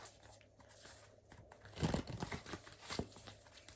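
Tarot cards get shuffled by hand on a table, a papery riffle and crinkle building to a louder flurry midway, then a few scattered flicks, close and without speech.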